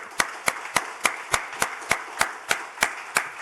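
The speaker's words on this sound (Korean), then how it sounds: "이 믿음 주신 하나님께 감사와 영광의 박수를 하나님 앞에 한번 올려드릴까요?" Steady, evenly spaced hand claps from a church congregation, about three per second, crisp and fairly close, with no voices.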